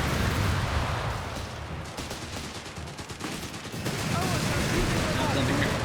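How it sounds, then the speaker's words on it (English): Half-track machine-gun fire in Company of Heroes 3, a dense, continuous crackle of rapid gunfire and battle noise, loud and close throughout, with a voice talking over it. "They've been ripped apart here by half-track fire."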